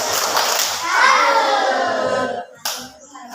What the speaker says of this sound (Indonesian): kalau bagus kita kasih tepuk salut